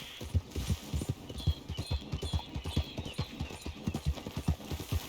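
Steady clip-clop of horse hooves trotting at an even rhythm in the video game Red Dead, close by, with a faint hum and occasional brief tones in the background.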